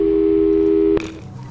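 A steady telephone busy-signal tone from the video game Portal 2 holds loud and close for about a second, then cuts off abruptly with a click.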